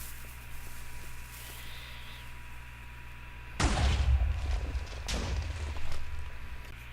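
A deep blast from a Minecraft TNT cannon erupts and rumbles, followed a second later by a second booming explosion, with a low hum underneath; game-like and fairly loud.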